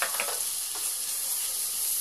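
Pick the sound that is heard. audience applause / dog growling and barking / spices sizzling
spices sizzling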